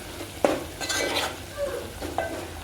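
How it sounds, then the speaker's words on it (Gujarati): A spoon stirs mung bean curry in a pot, giving a few distinct metallic clinks and scrapes against the pot over a quiet background sizzle, close and unaccompanied by talk. "એને પણ આપણે આ રીતે હલાવી લઈશું"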